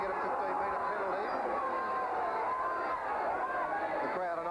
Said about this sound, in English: The crowd are not too wrapped about the umpiring today.